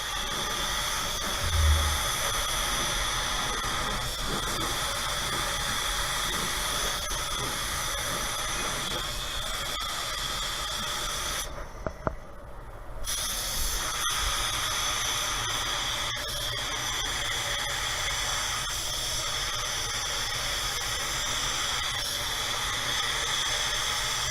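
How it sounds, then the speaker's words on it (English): A paint spray gun with a TE25 air cap lays down Tekna clearcoat at about 25 to 26 PSI, giving a steady, close, continuous hiss that breaks off briefly in the middle before resuming. "This gun sprays amazing."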